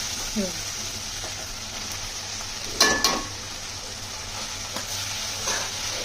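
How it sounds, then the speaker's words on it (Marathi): Okra (bhindi) stir-fried in a pan over a high gas flame gives a constant close sizzle, with a couple of brief clattering stirs of the spoon against the pan partway through. "तर भेंडी टाकून याला फास्ट गॅसवरतीच परतायचं, नाही तर भेंडी अशी चिकट होईल."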